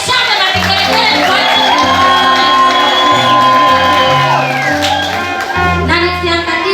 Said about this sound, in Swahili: Pigeni shangwe na vigelegele.